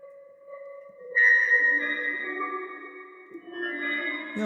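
Eerie video-game ambient synth tones drift and shift in pitch, with sudden glassy glitch bursts and wavering sustained notes, moderately quiet and alone.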